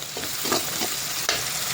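Green chillies sauté in a hot pan for a curd rice tempering, giving a close, steady sizzle with a few soft scraping stirs of a spatula, no voices.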